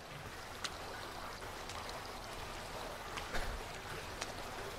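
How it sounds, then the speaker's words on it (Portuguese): A shower is left running in the horror game The Bathhouse: Restored, giving a steady, faint, spray-like hiss of water with a few small splashes and knocks, and no voices. "Nem desligou o chuveiro."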